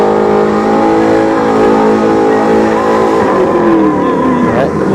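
A Chevrolet Camaro SS at a drag strip, engine loud and close, with a rising rev whose pitch climbs through the run, then a quick shift and a tire chirp near the end.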